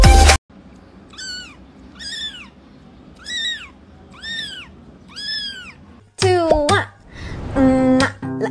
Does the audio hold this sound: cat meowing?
yes